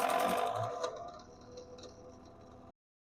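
Elna Supermatic sewing machine stitching a zigzag on setting 3, a quick rattling clatter of needle strokes that starts loud and fades to softer ticking before stopping abruptly.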